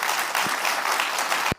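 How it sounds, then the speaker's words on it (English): A studio audience on a talk show breaks into loud, steady applause and crowd noise that fills the short moment before cutting off abruptly. "The crowd is like, oh, and then Geopolitical touches his heart"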